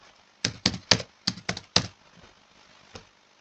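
Keys tapped on a computer keyboard while entering group data, six quick close clacks in a short burst, then a lone keystroke after a pause, crisp and alone.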